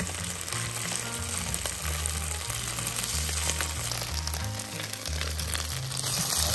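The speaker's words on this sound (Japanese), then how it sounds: "はい、炒める。" Somen noodles stir-fried in a pan for a large family carbonara-style meal, giving a steady close sizzle and crackle under background music, with no talking.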